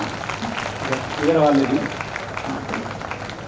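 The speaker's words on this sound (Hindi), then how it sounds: "तो एक बार तालियां बजा दीजिए" Audience applause at a Hindi comedy poetry show, a broad wash of clapping beneath a voice speaking over it, swelling briefly in the middle before settling back to a steady patter.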